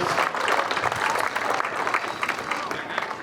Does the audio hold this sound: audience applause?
yes